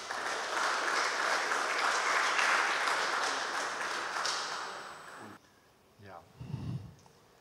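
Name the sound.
audience applause welcoming a speaker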